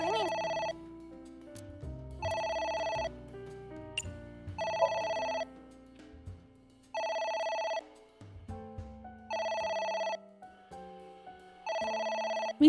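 A telephone rings in the Ai: Somnium Files game: six evenly spaced electronic ring bursts, each about a second long, repeating with short gaps over a low background, with a voice speaking softly between rings.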